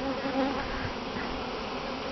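Honeybees buzzing steadily at an open hive during honey harvesting, a dense close drone that holds at an even level throughout without any voices.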